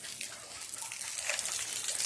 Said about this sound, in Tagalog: Grabe si Gasi makainom ng tubig.